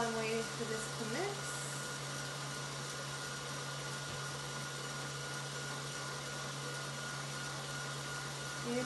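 An electric mixer whirs continuously at close range while beating banana bread batter, a steady motorized drone that holds its pitch throughout, with a brief faint clatter near the start.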